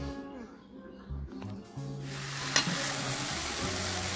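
Onion, chili and garlic paste with turmeric and salt sizzles steadily in a hot pan, a soft broadband hiss rising after a couple of seconds with a brief stirring clack, close and continuous.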